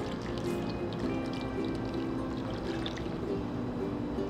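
Teriyaki sauce pours from a cup into a slow cooker holding country style pork ribs, a steady close liquid trickle and splash lasting several seconds.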